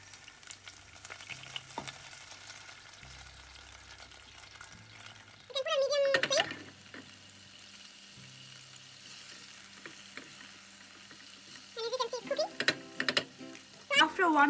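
Soy sauce hits a hot frying pan and sizzles in two loud bursts, with the pan frying steadily and quietly in between.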